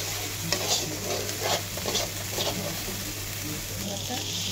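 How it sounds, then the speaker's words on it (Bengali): Spices with coriander powder stirred in a pan for chingri malaikari, a bright continuous sizzle broken by repeated spatula scrapes, with a low steady hum underneath. "এখন এতে দিয়ে দিচ্ছে ধনের গুঁড়ো, দিয়ে ভালো করে নাড়িয়ে চাড়িয়ে নিচ্ছে।"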